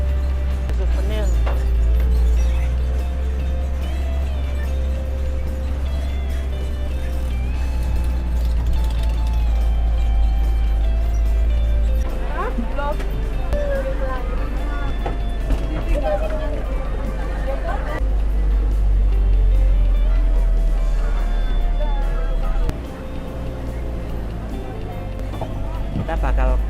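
A tour bus rumbles along through a plantation at Bhakti Alam Pasuruan, a steady low engine drone running throughout with a crowd of passengers chattering over it.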